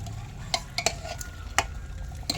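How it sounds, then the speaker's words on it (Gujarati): Potatoes are stirred into a pan of freshly made gravy for Kashmiri dum aloo, producing a handful of sharp spoon clinks and scrapes against the pan over a soft, faint sizzle. "હવે બટેટા નાખી દેવાના છે તો આપણે હવે બટેટા નાખી દેવી"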